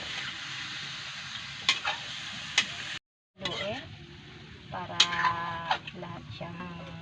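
Adobo chino meat frying toward crispness, a continuous sizzle with occasional spatula clicks and scrapes as it is stirred, broken by a brief silent gap, with a voice faintly present.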